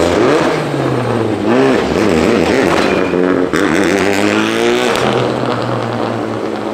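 A Renault Clio race car's engine roars loudly past, with rising and falling revving harmonics as it goes by, continuous and close with no one talking.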